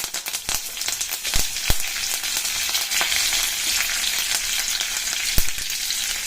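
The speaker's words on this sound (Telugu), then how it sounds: "ఇప్పుడు వేసుకున్న పప్పు సామాన్ అంతా మంచి మెరూన్ కలర్ వచ్చే వరకు మనం వేయించుకొని పెట్టుకోవాలి." Chana dal, curry leaves and dried red chillies fry in hot oil for mango pulihora, giving a steady close crackling sizzle with sharp pops and spatters throughout, and no talking.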